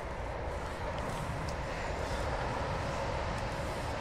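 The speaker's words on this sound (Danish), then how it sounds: "Så er vi ved motorvejen." Steady, continuous roar of many cars on a Danish motorway heard from nearby, an unbroken broadband wash of traffic noise without distinct passes or voices.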